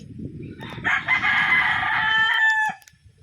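A rooster crows once, a loud drawn-out call lasting about two seconds, among chickens sheltering under a tipi in hot weather, with faint rustling before and after.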